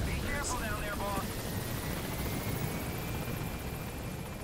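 Helicopter rotor noise from the video game Metal Gear Solid V, a steady, close thrumming drone that holds throughout, with a brief voice heard near the start.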